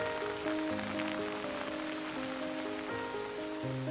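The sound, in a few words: rain falling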